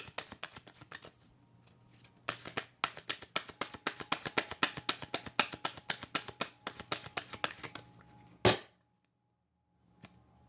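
Tarot cards being shuffled by hand during a live reading: a rapid run of crisp riffling clicks and flutters for several seconds, ending in a sharper snap, then a brief quiet tap.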